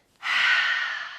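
A single long, breathy exhale during a morning yoga session, starting abruptly and fading slowly over about a second, close and clear with no talk.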